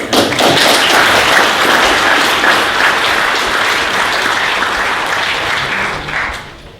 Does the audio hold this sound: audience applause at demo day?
yes